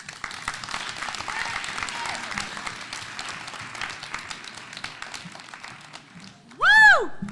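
Audience applause after a student's spoken word performance at a grade 9/10 competition, steady clapping and cheering from a crowd lasting several seconds, then a whoop rising above it near the end.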